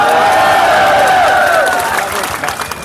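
A large crowd at a Congress political rally in Mewat, Haryana, during the election campaign, cheering, whistling and applauding in a loud, steady roar that fades slightly toward the end.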